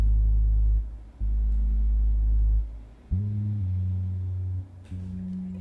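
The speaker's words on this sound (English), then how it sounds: "So I have kind of a sub bass, which sounds like this." A deep, smooth synth sub bass plays sustained low notes in several phrases with short gaps, clean and alone.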